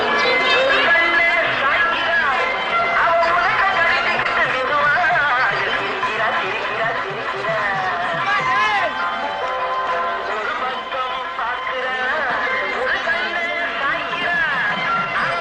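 A patient crowd chatters and murmurs while waiting for a giant stern-faced figure of Shiva to be raised at a temple festival in early Pondicherry, a dense steady babble with scattered laughter that carries on throughout.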